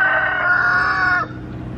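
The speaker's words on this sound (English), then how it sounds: "I can't get a full sentence in without this rooster crowing." A rooster crows once nearby, a loud sustained call that cuts off abruptly, with soft outdoor background after it.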